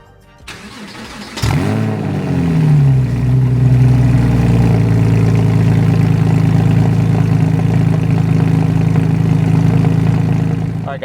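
A Porsche 997 cold-starts with a brief starter crank, then catches into a loud, steady, rumbling high idle through a muffler-bypass exhaust, heard close and alone.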